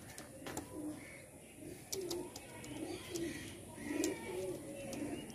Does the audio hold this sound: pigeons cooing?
yes